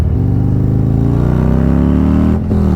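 A Harley-Davidson motorcycle with a 131ci Stage 4 crate engine accelerates hard, its loud, close exhaust note rising steadily in pitch, then dipping briefly near the end as if shifting gear.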